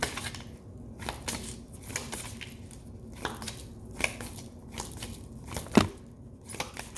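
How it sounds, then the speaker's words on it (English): Oracle card deck being shuffled by hand in a quiet room, soft irregular riffling and slapping of cards with brief crisp ticks, close and fairly faint, no talk. "Bear with me through the shuffle."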